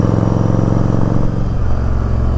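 A Yamaha Virago motorcycle engine runs loud and close, a steady low throbbing idle with an even pulsing rumble and no break in the sound.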